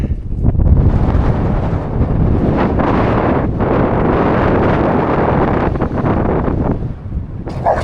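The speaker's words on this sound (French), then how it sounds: "Ah, y a-tu du vent?" Strong wind buffets the microphone in loud, rumbling gusts that roar almost continuously, easing briefly near the end.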